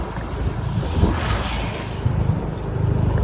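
Riding a Yamaha QBX scooter through Chiang Mai: steady engine hum buried under heavy wind buffeting on the microphone, constant and close, with no voices.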